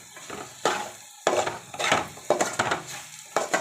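Chayote (chow chow) fry being stirred in a pan with oil, a spatula scraping and turning the pieces in repeated strokes over a soft sizzle, close and fairly loud.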